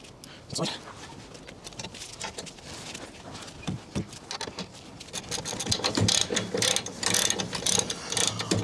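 Ratchet undoing bolts on the front bumper of a Rover P4, rapid clicking bursts of the pawl with scrapes and clanks, close, growing busier toward the end, with some talk mixed in.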